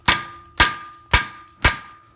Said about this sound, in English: taking my hammer and just kind of hitting them right on the edge here